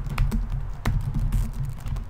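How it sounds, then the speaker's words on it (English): Steady typing on a computer keyboard while entering appointment details into a calendar, a run of soft, closely spaced key taps with a few sharper strokes, heard near and alone over a constant low background hum. "Just typing in and pressing enter."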